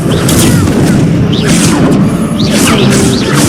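Fire spell blasts in Hogwarts Legacy, several loud whooshing bursts with crackling impacts over a busy battle soundscape, no speech.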